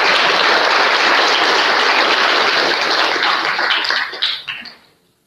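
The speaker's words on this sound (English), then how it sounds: "start a clap for myself" Applause from an audience at a hockey analytics workshop, dense steady clapping that fills most of the clip, then thins out and fades away over the last second.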